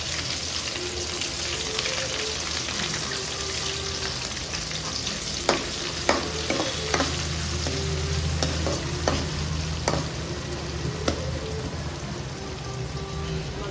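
Onions fry in hot oil with a steady, dense sizzle and occasional sharp clicks and pops from stirring, close by and with no talking.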